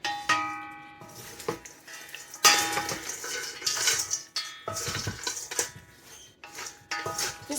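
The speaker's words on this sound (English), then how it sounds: "We'll just give the salad a stir." Metal utensils clink and scrape against a bowl while a salad of lettuce, carrots, croutons, artichokes and cranberries is tossed, making irregular light taps and rattles close by.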